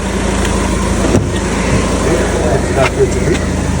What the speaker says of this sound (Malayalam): വണ്ടി സ്റ്റാർട്ട് ചെയ്ത് നിൽക്കുക